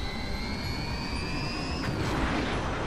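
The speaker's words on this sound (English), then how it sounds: "taking off on our sweet bat plane" Jet aircraft roaring continuously as a toy Batman bat plane takes off, a steady loud engine rush with a high whine that drops away near the end.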